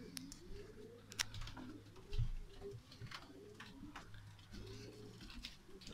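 Young racing pigeons return to their home loft after a first race, with soft, faint coos and light ticking sounds over a quiet, low background.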